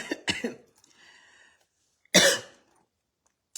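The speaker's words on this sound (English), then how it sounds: "feel like I need a big cough." A cough burst up close, followed after a short pause by one stronger, harsher cough; quiet otherwise.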